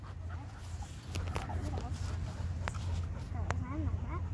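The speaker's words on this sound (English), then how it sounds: "But you caught a dog." Dog whimpering with soft panting and brief high whines, fairly close, mixed with footsteps and outdoor background noise while people talk nearby.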